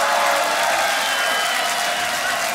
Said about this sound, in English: One more round of applause for both the contestants.